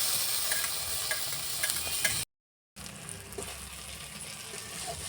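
Chopped tomatoes go into a hot frying pan for a cabbage bharta, giving a steady, close sizzle. The sound cuts to silence for a moment partway through and then resumes more quietly.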